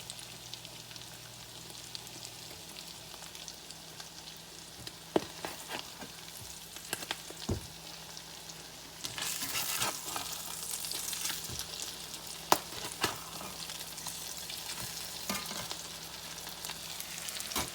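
Tuna patties sizzle steadily in a frying pan just after being flipped to their golden-brown side, a constant close hiss broken by a few sharp spatula clicks and scrapes, growing louder partway through, with no talking.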